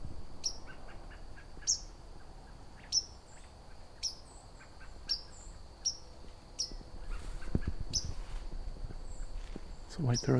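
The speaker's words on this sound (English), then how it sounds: "It's a white-throated sparrow." A white-throated sparrow gives repeated thin, high call notes at regular intervals during autumn migration, with soft rustling, footsteps and a few low thumps underneath.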